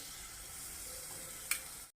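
Paneer ground in a mixer is added to melted ghee in a pan and sets off a quiet, steady sizzle for about two seconds. A brief clink near the end comes just before the sound cuts off.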